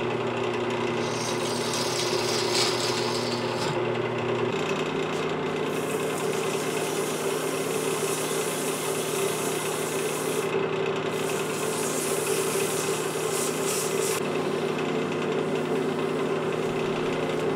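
A woodturning lathe drives a 3/8 inch bowl gouge into a resin bowl cast with old wood shavings, giving a continuous close hum with a steady scraping rasp and no talking.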